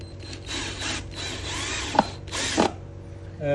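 Power screwdriver driving screws into computer desk furniture panels during assembly, a short whirring buzz in bursts with a couple of sharp clicks, fairly close and moderately loud.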